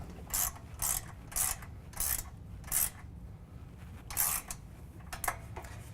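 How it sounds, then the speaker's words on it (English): A hand ratchet tightens pinch weld bolts on a Ford SuperDuty while fitting hoop steps, sounding as short bursts of rapid clicking in about eight strokes with brief pauses between them. "you're going to use the same tools to tighten down the pinch weld bolts"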